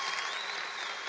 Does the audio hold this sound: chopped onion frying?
no